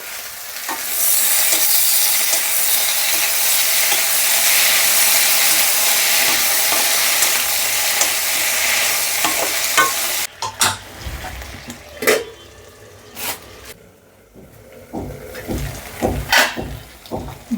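Tomatoes fry with salt in a pan under a loud, steady sizzle for several seconds, then the hiss drops away to scattered scrapes and clinks of a spoon stirring against the metal pan.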